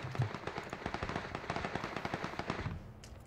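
Rapid gunfire from PUBG, a dense volley of sharp cracking shots fired in quick succession as one team comes under attack, fairly loud and then tapering off briefly at the end.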